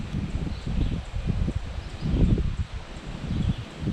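Morning wind at East Twin Lake Campground gusts in uneven bursts, buffeting and rumbling close by under a faint hiss, with no talking.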